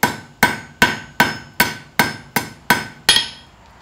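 A blacksmith's hammer taps thin hot steel on an anvil to round a square taper, ringing out nine crisp, evenly spaced strikes close up, each with a short metallic decay.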